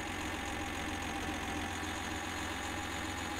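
Tractor engine in an Indian tractor cargo driving simulator game, a steady droning hum with a knocking low rumble running continuously and evenly throughout, fairly loud and close with no talk over it.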